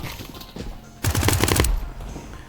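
Automatic gunfire in Counter-Strike 2 comes as a short, dense burst of rapid shots lasting about half a second, loud against a busy game background.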